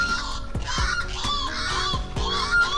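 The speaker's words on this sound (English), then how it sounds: "Lots of bird life, as you can hear." Loud honking calls of geese or similar waterbirds repeat in quick succession, several birds overlapping close by, at Boondall Wetlands.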